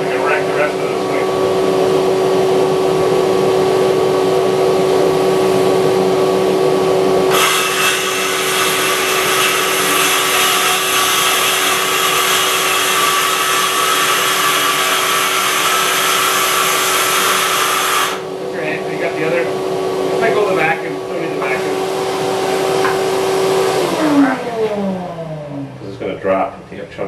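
A power saw fitted with a new coarse blade cuts freehand through a kitchen countertop in a loud, sustained grinding roar that runs for about ten seconds, set against steady background machine noise, then winds down to a falling whine.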